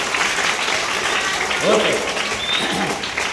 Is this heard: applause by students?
yes